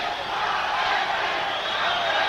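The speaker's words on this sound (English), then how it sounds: "You can hear the crowd" A boxing arena crowd in Miami, largely Hispanic with many Nicaraguans, roars as one steady, loud, broad wash of cheering and shouting, heard from within the stands.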